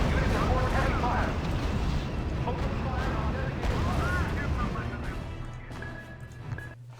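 Battlefield gunfire and artillery in the WWII strategy game R.U.S.E. crackle and boom continuously, with bursts of small-arms fire and distant blasts, while voices speak over the fighting.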